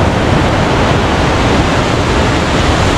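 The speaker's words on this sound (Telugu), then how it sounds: "వాటర్ పైనుంచి అలాగా పడుతుంది" Glacier meltwater tumbles down from the Himalayan mountains of Spiti Valley in small streams, a loud, dense, unbroken rush of falling water that fills the whole stretch with no pauses.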